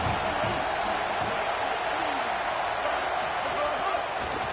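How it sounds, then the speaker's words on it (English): Home crowd at an Alabama college football game roaring steadily in a packed stadium, a dense, loud, continuous wall of cheering with no break across the whole stretch. "how nice is it to have the home crowd going absolutely bananas?"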